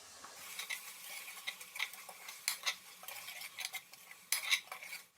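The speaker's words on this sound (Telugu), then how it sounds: "1 టీ స్పూన్ పసుపు వేసుకొని కలుపుకోవాలి." Turmeric stirred into ginger-garlic paste frying in a pan for veg pulao: close, irregular scraping strokes of a spoon against the pan over a soft sizzle, with a few sharper metallic clinks.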